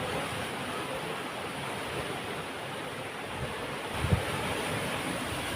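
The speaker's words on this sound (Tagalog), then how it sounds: "napakalakas ng hampas ng tubig at alon" Strong sea waves crash and wash continuously at a fishing spot, a broad roaring surf noise mixed with wind buffeting the microphone, with a brief thump near the end.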